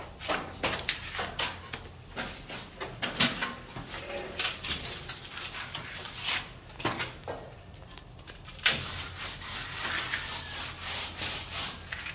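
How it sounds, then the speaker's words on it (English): A trowel scrapes and rubs plaster across a ceiling panel in a series of short, uneven strokes, close by and fairly quiet, with faint background birds. "he's just gonna work it across, trowel it across, use these edges for troweling to make it nice and perfect."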